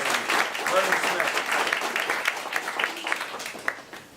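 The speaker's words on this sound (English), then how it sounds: "give a hand of applause to our dear friend, Vernon Smith." An audience at a public economics discussion applauds in a dense, continuous wash of clapping from start to finish, close and fairly loud, with voices mixed in beneath it.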